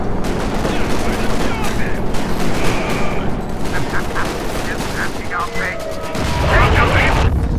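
Heavy battle gunfire and shell hits rattle through a Company of Heroes 2 match, a continuous loud fusillade with booming impacts near the end, while a commentator talks over it.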